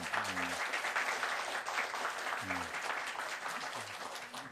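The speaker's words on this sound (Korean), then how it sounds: "박수 치고 싶을 만큼 한번 쳐드리죠" A church congregation applauds a choir during a Sunday service at Pangyo Somang Church, a steady, dense wash of clapping sustained throughout with faint low tones beneath it.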